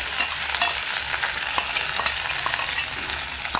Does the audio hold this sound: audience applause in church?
no